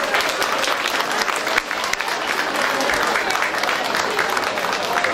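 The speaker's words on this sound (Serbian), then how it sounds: "Veliki aplauz još jednom za njih." Audience applause at a village festival of flowers and honey in Kusiće, dense steady clapping from a crowd throughout, loud and close.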